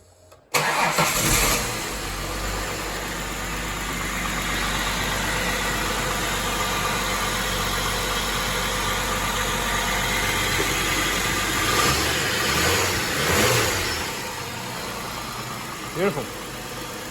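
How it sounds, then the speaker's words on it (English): A Holden VY Commodore with an Ecotech V6 cranks briefly and catches, then settles into a steady, close mid-pitched idle that holds for the rest of the stretch, with a faint rev swell near the end. "just make sure it starts, because I haven't tried starting it since we did the crank angle sensor"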